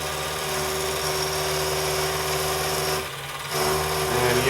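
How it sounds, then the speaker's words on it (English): Steady mechanical whirring and humming of a lathe turning down a metal part for a model diesel engine, continuous and close, with a brief dip in the middle before resuming. "now I'm just turning this part down for the diameter that goes in the front of the engine"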